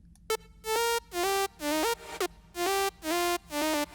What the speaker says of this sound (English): you get this Euro dance super happy modulation